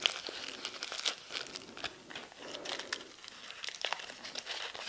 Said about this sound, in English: All right, rub and peel.